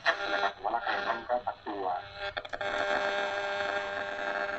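A Soundlook SAD-1715 portable radio plays an FM station around 90.5 MHz with voices and broadcast sound, briefly crackling midway before the steady signal returns, moderately loud and close.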